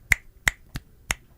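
Four sharp, close hand claps tap out the tresillo rhythm, an uneven three-plus-three-plus-two pattern, each clap crisp and isolated against near silence.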